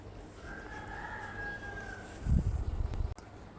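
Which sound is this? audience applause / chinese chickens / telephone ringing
chinese chickens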